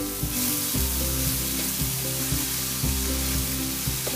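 Veg momo filling with Szechuan sauce is stirred in a hot pan: a continuous close sizzle broken by regular scraping strokes of a spatula against the pan, with no talking.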